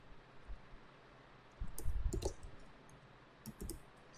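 Light keyboard clicks come in short scattered bursts, close and quiet, with a denser cluster of keystrokes in the middle over a faint background hiss.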